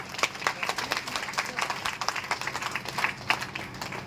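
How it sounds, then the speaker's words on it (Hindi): Scattered clapping from a modest gathering at a business sales meeting, uneven individual claps rising and falling rather than a dense roar, fairly faint and distant throughout. "आपके लिए एक जोरदार ताली होनी चाहिए।"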